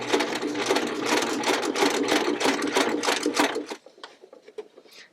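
A sewing machine runs steadily along the edge of a child's hooded towel, its rapid needle pulses close and loud for about three and a half seconds before stopping, leaving faint handling noises.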